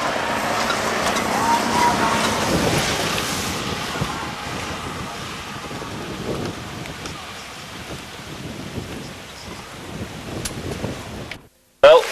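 Rain and wind buffet the outside of a caravan on a trip to Cape York. The rushing is steady and noisy, swells early and then eases, and voices murmur faintly beneath it before an abrupt cut.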